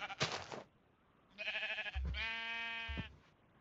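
Sheep in a block-building video game bleat in a cow and sheep pen, giving a short bleat and then two longer, nasal, wavering calls, heard alone and fairly loud.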